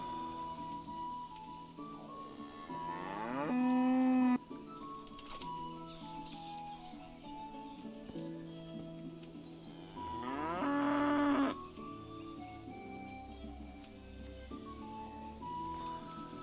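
Two long, loud cow moos, a few seconds apart, ring out in the medieval video game Kingdom Come Deliverance, with quiet ambient game sounds and faint birds between them.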